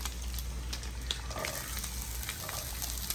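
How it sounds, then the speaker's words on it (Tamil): Onions go into hot oil with fenugreek seeds for a Jaffna-style prawn curry, sending up a steady moderate sizzle with faint crackles and occasional stirring scrapes, close and unbroken. "இதுக்குள்ள நாங்கள் இந்த வெங்காயத்தை போட போகிறோம்"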